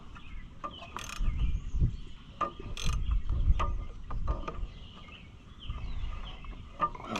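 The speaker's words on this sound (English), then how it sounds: "Fine threaded bolts. They put up a struggle when you're trying to get them loose." A ratchet works at stubborn fine threaded bolts on an Oliver Super 77 tractor in a salvage yard, giving irregular clicking and metallic creaks over low outdoor rumble, with faint bird chirps in the background.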